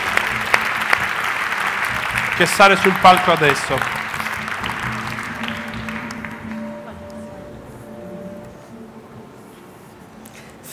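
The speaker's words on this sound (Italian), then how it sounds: "fatele un applauso come si deve" An Italian audience applauds as the writer and teacher Paola Mastrocola walks on stage, the clapping strong at first under a presenter's voice, then fading to a quiet murmur with a faint tone lingering.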